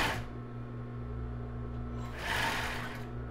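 Sewing machine stitching over the seam of a plus-size bra with raw jaraguá elastic, a steady close mechanical whir that briefly speeds up and then stops.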